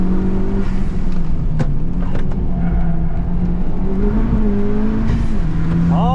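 Honda Civic Type R with performance mods driving on a race track: steady, loud engine drone with slight pitch shifts through gear and throttle changes, a few sharp clicks, no talk.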